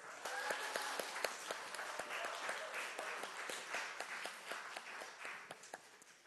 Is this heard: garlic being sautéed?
no